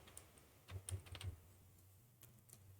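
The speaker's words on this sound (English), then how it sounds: "I'm going to type in my own." Keys tapped on a computer keyboard to enter a website domain name, a short burst of about half a dozen quick clicks up close in a quiet room.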